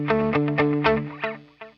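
Electric guitar notes run through a delay effect via a Jetpedals Red Sea stereo parallel FX splitter, several plucked notes each followed by repeating echoes that overlap and trail off, played alone without talk.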